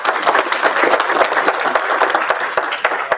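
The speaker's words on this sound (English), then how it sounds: "Let's give everyone a round of applause." Audience at an Ohio Northern University School of Social Sciences and Human Interaction event applauding steadily, a dense, loud wash of many hands clapping throughout with no pauses.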